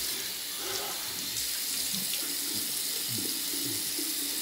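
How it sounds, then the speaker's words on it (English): Cold tap water runs steadily into a sink for rinsing after shaving, a constant close splashing rush with slight shifts as it hits hands or basin; nobody speaks. "I like to use cold water on the rinse"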